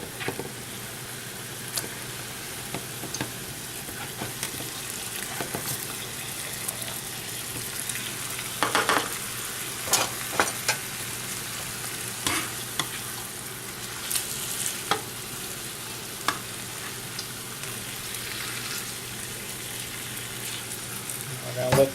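Chicken sizzles and crackles steadily in a hot frying pan, with occasional louder pops and scraping stirs over the constant hiss.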